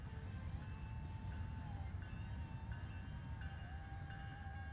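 A train in the video game American Truck Simulator rumbles past with a heavy low roar, faint squealing tones rising and falling above the steady clatter.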